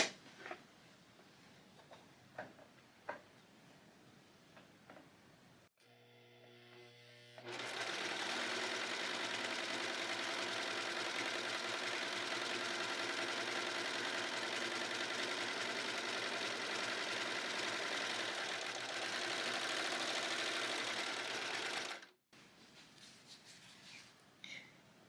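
A Brother serger stitches fabric scraps into a crazy quilt block, a fast, steady mechanical whirring that runs continuously for about fifteen seconds, close by, with quiet handling clicks before and after.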